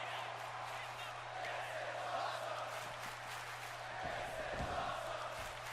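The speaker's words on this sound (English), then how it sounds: "the crowd here tonight at Fastlane showing their appreciation for these two legends." Crowd cheering in WWE 2K24 during a Fastlane wrestling match featuring Lita, a steady broad roar from the arena audience with a constant low hum beneath, loud and sustained throughout with a few brief thuds near the end.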